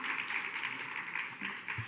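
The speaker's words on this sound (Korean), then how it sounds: "영광의 박수 올려드리겠습니다." Applause from a church youth congregation during a worship service, a soft, fairly distant wash of clapping lasting the whole moment.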